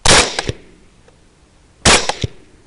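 Two loud, sharp rifle shots fired close by during a night thermal hog hunt, about two seconds apart, each with a short echoing tail.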